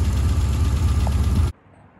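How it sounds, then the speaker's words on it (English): A car engine idles loud and close with a rough, steady rumble after its distributor and timing were adjusted, then cuts off abruptly partway through, leaving near silence. "I've got the engine running again"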